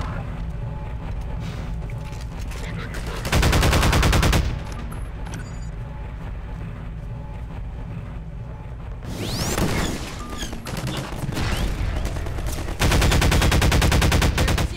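Heavy gunfire from shooting enemies in Half-Life 2, with sustained rapid bursts, dense overlapping blasts and loud peaks near the start and end, running continuously with no voices.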